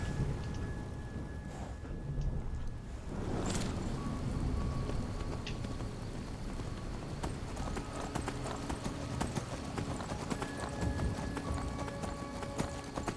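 Steady clip-clop of horse hooves trotting throughout in the video game Skyrim, with a continuous rhythmic patter and a brief whoosh early on; no talking.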